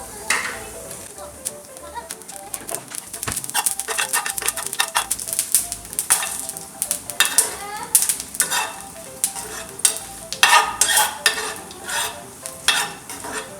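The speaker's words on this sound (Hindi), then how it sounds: "मैंने ऑयल थोड़ा सा 1 चम्मच डाल लिया था, तो अभी इसमें हम क्या करते हैं कि ज़ीरा शामिल करते हैं।" A teaspoon of hot oil with cumin seeds crackles and sizzles in bursts while tempering mash dal, with occasional stirring clatter and a busy, close texture throughout.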